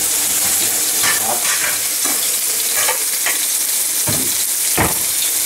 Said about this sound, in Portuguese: Vamos fritar aqui um pouquinho